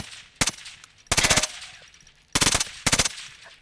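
Four rapid automatic bursts from the Volk Specialist gun in a video game, each a short, loud, rattling string of shots separated by brief pauses.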